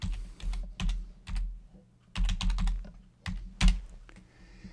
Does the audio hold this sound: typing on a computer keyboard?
yes